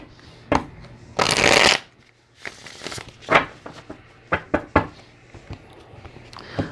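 Tarot cards are shuffled in several bursts: one long riffling rush, then a string of short, crisp riffles and taps, close and fairly loud, with no one talking.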